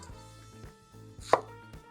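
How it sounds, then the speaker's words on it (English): A knife chops onions on a board for a French onion dip. A few distinct chops fall irregularly, with one sharper, louder cut near the end, in a quiet kitchen. "we're going to start chopping onions."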